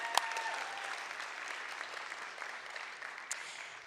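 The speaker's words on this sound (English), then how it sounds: "I think that deserves a big round of applause." Sustained applause from a large audience at a Liberal party convention in Canada, a dense wash of clapping holding steady throughout with a sharp accent near the start, no voices on top.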